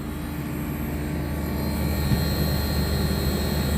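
Window air conditioner, an LG Dual Inverter unit, with its inverter compressor ramping up from 40 to 50 hertz: a steady, loud droning hum with layered tonal whine that grows slightly fuller partway through, heard alone without talk.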